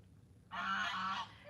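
A single goose on Wroxham Broad in Norfolk gives one clear, drawn-out honk lasting under a second against a quiet outdoor background.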